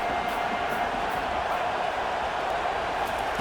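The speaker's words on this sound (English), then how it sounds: "Here comes this home crowd as the defense tries to get off the field on 3rd down" Steady, dense roar of a home stadium crowd in the College Football 25 video game, a South Carolina Gamecocks exhibition, cheering on a third-down play with no break in the noise.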